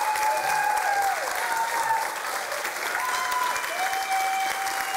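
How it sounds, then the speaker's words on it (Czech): Studio audience applauding at the start of a Slovak evening TV show, steady sustained clapping for several seconds alongside bright tonal music lines, with a faint crowd murmur beneath. "Ďakujeme veľmi pekne za váš potlesk"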